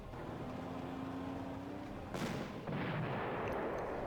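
Artillery fire from the WWII strategy game Panzer Corps: a steady low rumble with a faint tone, then a sharp blast that settles into a heavier roar, loud and continuous without speech.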